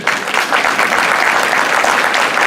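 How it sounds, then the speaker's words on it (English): Loud, sustained applause from a large audience honors board members standing at a business meeting, a thick, even roar of clapping with no break across the short stretch. "need to give them a round of applause, too"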